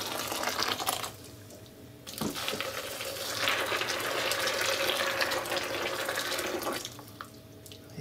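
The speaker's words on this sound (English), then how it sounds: "next I'm going to soak these almonds in some hot water" Hot water poured over almonds to soak them, a steady splashing rush that swells in the middle and breaks off briefly near the start and end, with a hollow filling tone underneath.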